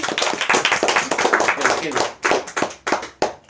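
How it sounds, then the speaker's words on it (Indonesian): Studio audience on an Indonesian talk show clapping hands, a run of rhythmic claps that thin out toward the end, with voices talking over the clapping. "Tepuk tangannya dulu dong di belakang."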